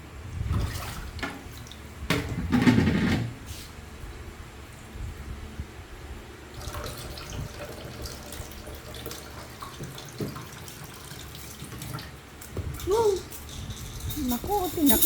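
Water runs from a tap into a pot of rice being washed, splashing and gushing in bursts with quieter trickling stretches between them, while people talk over it.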